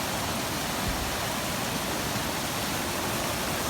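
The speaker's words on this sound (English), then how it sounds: "So this is the stream, and it hardly ever runs to the point where you get these big fancy waterfalls." A mountain stream flows in a steady, close rush of broadband water noise, loud and unbroken with no voices.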